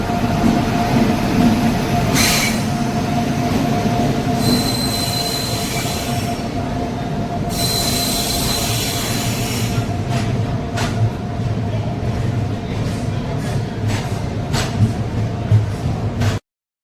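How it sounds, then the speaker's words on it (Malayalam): An express passenger train, the Kanyakumari Express, rolls slowly into Thiruvananthapuram station with a steady low rumble, long piercing wheel squeals and rhythmic clanks of the carriages passing close by. "നമുക്ക് പോകാനുള്ള ട്രെയിൻ ഇതാ എത്തിക്കഴിഞ്ഞു"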